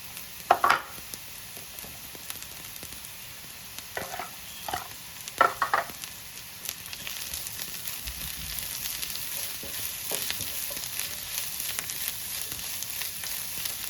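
Green chillies with crushed ginger and garlic fry in a pan for egg biryani, making a continuous crackling sizzle with bursts of metal spatula scraping and clanking while being stirred.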